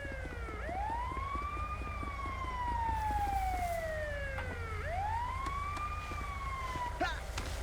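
An ambulance siren wails in the GTA V LSPDFR police game, sweeping up and down in long rising and falling cycles, fairly faint under a low engine rumble, ending with a short burst of yelping tones.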